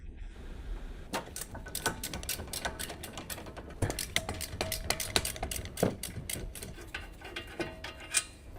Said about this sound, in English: Using the large 18mm long socket with the extendable ratchet, remove the caliper bracket mounting bolts.